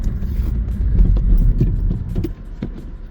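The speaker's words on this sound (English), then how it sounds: "Now let's do the brake test again." A car braking hard on Linglong winter tires during a brake test, heard as a loud, steady low rumble of engine and road noise that drops off sharply near the end as the car slows.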